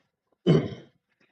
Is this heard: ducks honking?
no